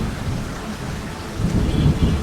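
Steady rain pours down while a deep roll of thunder swells and rumbles louder toward the end, with no voices.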